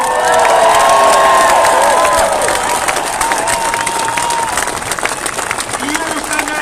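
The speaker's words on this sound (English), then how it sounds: "Give her a big round of applause" Loud applause and cheering from a live audience greeting Professor Cahill, with dense clapping and shouts filling the room throughout, close and sustained.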